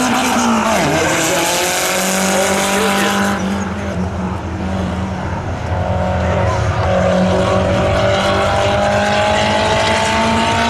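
Two drag racers, an Audi A4 and a Toyota Corolla, launch at a winter spectator drag event, with loud, sustained engine roar, a brief tire squeal, and rising revs as the cars pull away together.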